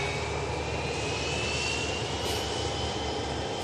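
An EasyJet airliner arriving from London Heathrow roars past with a steady, loud jet engine rumble and a faint rising whine, heard continuously without talk.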